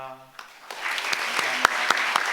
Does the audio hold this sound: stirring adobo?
no